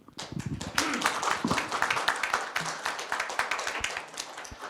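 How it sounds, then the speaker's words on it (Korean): Audience applause at a Korean IT and venture business Q&A event with a party leader, a dense wash of clapping hands filling the room steadily for several seconds. "우리 박수로 보내드리는 걸 하겠습니다"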